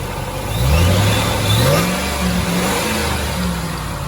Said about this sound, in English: Oh, and that sweet little JLT intake. You can really hear the blower now through it too.